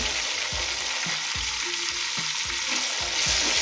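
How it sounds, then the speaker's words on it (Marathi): Curry leaves crackle in hot oil with green chillies in a pan for masale bhat, a bright steady sizzle with regular scraping strokes of a spoon stirring. "कढीपत्ता व्यवस्थित मिक्स करून घेऊया म्हणजे सगळं साहित्यामध्ये त्याचा फ्लेवर उतरेल"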